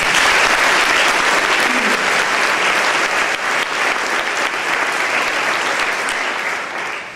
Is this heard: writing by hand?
no